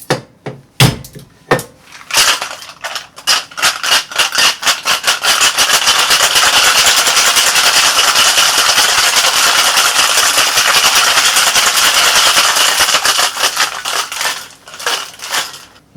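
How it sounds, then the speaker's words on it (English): Ice rattles hard inside a cocktail shaker, a loud, sustained shake running for about ten seconds, opening with a few separate clinks and fading to scattered rattles at the end. "Let's get some ice, and let's give this bad boy a shake."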